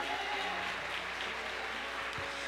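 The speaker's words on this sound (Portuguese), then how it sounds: "Você pode aplaudir ao Senhor nesta manhã." Congregation applauding in a Pentecostal church, a continuous, fairly faint wash of clapping from a crowd, steady throughout with a low background hum.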